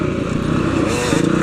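A street-legal Yamaha TTR 250 dirt bike engine runs steadily and loudly with a rough, pulsing drone during dirt riding at Kahuku, Hawaii, close and continuous throughout.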